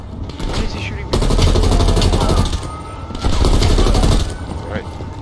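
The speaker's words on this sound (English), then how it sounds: "Why is he shooting me?" Gunfire from the video game Call of Duty: Black Ops Cold War, with two loud sustained bursts of rapid automatic shooting separated by quieter gaps, and voices talking.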